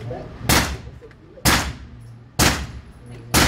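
Four sharp, loud pistol shots from a Springfield XD Elite fitted with a CAA micro conversion kit, fired at an even pace about a second apart, each with a brief ringing decay over low background noise.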